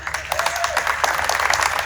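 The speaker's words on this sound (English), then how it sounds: "we'd like to ask for a round of applause in her honor" Audience applause at an annual meeting of a community center, steady clapping from a crowd filling the short stretch at moderate loudness, with some voices mixed in.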